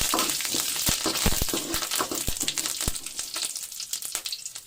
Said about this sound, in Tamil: இதை கிண்டி விட்டுக்கலாம்.